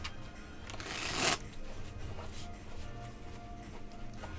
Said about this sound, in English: Bring it together and complete the shuffle by doing one final riffle.